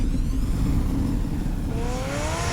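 The Batmobile drives in Batman: The Telltale Series, a steady engine drone with a rising whine near the end, loud and close with no voices.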